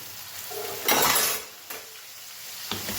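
A spoon stirs a sugared, lemony Gujarati vegetable dish in a pan, giving a soft sizzle with a louder scraping burst at about one second and brief clinks of metal on the pan later.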